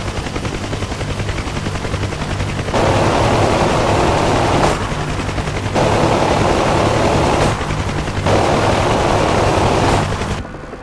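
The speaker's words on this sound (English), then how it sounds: "Gotta love some miniguns." Three sustained bursts of minigun fire from a UH-1H Huey helicopter in the DCS World flight game, each a dense, loud buzzing roar lasting a couple of seconds, separated by short pauses filled with steady rotor and engine drone.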